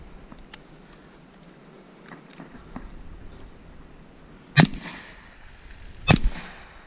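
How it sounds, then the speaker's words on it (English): Two sharp, loud rifle shots about a second and a half apart come from an AR-style rifle with a Rare Breed FRT forced-reset trigger fired in standard mode outdoors, with faint ticks and clicks beforehand. "I'm gonna shoot it in standard first, 2 shots, and then see if I can get it to run"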